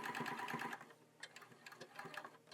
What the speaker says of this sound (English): we want to sew down this opening right here